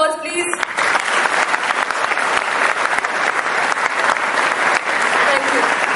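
Audience applause fills the hall at a launch event, steady dense clapping from a large crowd that rises quickly and holds loud throughout.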